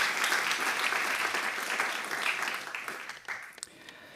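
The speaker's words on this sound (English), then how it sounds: "maybe I can get a warm applause for the organization and the KNW" A crowd applauds steadily, a dense wash of many hands clapping that gradually thins out toward the end.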